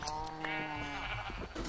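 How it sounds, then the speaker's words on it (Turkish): Minecraft sheep bleat as they are sheared in the video game, a few wavering, nasal bleats overlapping at moderate volume over a faint game background. "Şöyle birazcık koyun kırkayım."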